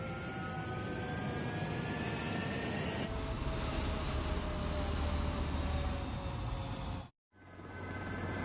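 A fighter jet in the video game Ace Combat 7 spools up for takeoff, a loud continuous engine roar with rising whine that holds steady for about seven seconds, cuts out briefly, then resumes.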